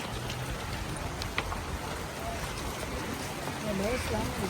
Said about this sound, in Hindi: तो घर से निकले ने तो बहुत तेज़ बारिश हो रही है